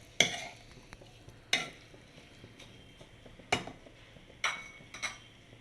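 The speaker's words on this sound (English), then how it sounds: "Mixing it with the vegetables which we cooked." Boiled pasta being stirred together with cooked vegetables in a pan over a low flame, with five or six distinct scraping, clattering utensil strokes against the pan spaced a second or so apart, close by and fairly loud.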